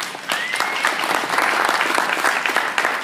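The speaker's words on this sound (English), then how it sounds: "Give them a round of applause." Audience applauding conference panelists at a 2013 DJ industry panel, steady clapping from a crowd lasting the whole stretch, fairly close and full.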